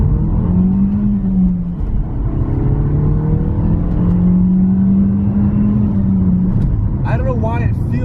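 Dacia Duster TCe 150 petrol engine accelerating hard, a steady rising engine drone with gear-like tonal sweeps running continuously near the microphone, with a brief voice near the end.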